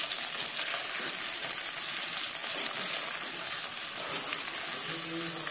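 Chopped onions sizzling in hot oil with ginger garlic paste added, a steady loud frying crackle that runs continuously throughout with no pause.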